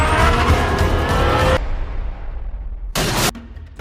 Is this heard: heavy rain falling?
no